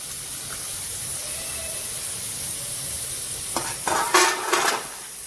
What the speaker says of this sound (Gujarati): હવે આપણા શક્કરપારા તળાઈ જાય છે